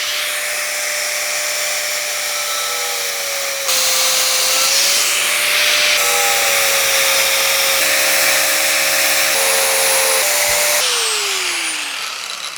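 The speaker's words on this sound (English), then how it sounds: "let's try drilling again" Power drill boring out rivets during a repair job, a loud continuous high-pitched whine that holds steady, shifts pitch slightly as the bit bites and tails off near the end, with no talk.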